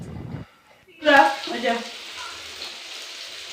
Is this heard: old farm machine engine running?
no